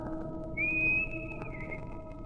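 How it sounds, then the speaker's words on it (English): A man on a dock whistles a short signal tune, one clear sustained note sliding slightly then a shorter lower note, loud and close over a low hum. "When I come back, I'll stand in the dock and whistle."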